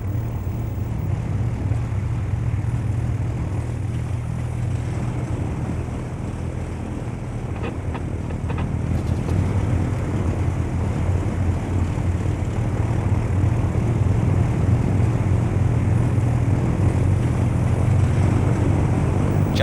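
Steady low engine drone of a small aircraft on an Antarctic glacier during departure, a continuous broadband roar that holds loud and even throughout with no talking.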